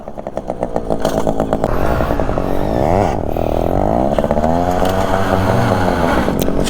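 A stunt motorcycle being throttled hard during a wheelie, its engine revving loud and close, rising and falling in pitch as the throttle opens and eases, continuous with no talk.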